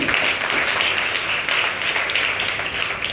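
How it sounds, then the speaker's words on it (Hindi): Audience clapping for quiz winners at an Indian Air Force Day school event, a continuous bright patter of many hands lasting about three seconds and gently tapering at the end. "इन सबके नाम भी आप लोग नोट करें और इनके लिए तालियां भी बजाएं।"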